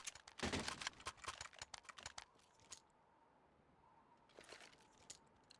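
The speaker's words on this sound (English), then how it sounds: "I hear typing in chat." Rapid keyboard typing over voice chat during an IEM Katowice 2020 esports qualifier, a dense burst of clicking keys, then a pause and a second quieter burst, faint and close.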